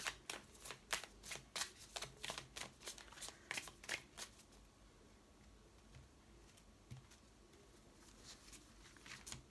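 Tarot oracle cards are shuffled in a quick run of close, crisp riffling bursts over the first half, then settle into quieter, softer handling as a card is drawn.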